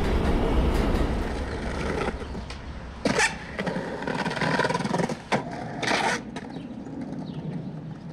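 A metro train rolls through a nearly empty, deserted city, giving a steady rumbling ride noise throughout, with a few brief bursts of brighter squeal and clatter.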